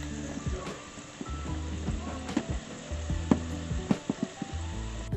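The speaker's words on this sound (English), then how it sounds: "For the frying, make sure that your eggs are all submerged." Scotch eggs deep frying fully submerged in oil: a faint, steady sizzle with irregular pops and crackles scattered throughout.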